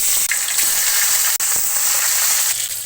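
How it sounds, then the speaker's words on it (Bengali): Tilapia fish go into hot oil in a kadai, and a loud, close, continuous frying sizzle hisses for a few seconds with a couple of brief dips. "তেল গরম হয়ে গেছে, এখন আমি মাছগুলা দিয়ে দিব।"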